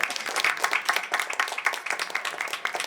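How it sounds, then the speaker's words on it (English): A room of people clapping for a forum moderator, brisk and uneven with individual claps standing out in a fairly close, lively burst that stays steady throughout. "please give her a round of applause"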